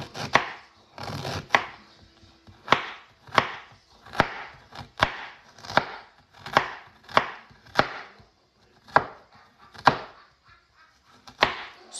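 A knife chops tomatoes finely on a board, giving about a dozen sharp, evenly spaced knocks that ring out clearly with quiet gaps between them and no talking.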